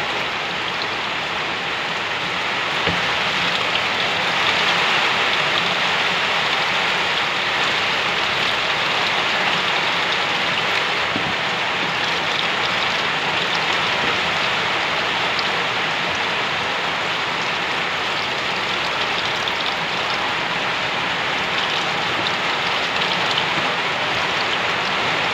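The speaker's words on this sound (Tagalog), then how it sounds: "Lakas ang ulan" Heavy rain roars steadily for the whole stretch, a dense, unbroken wash of drops hitting surfaces nearby with no talking.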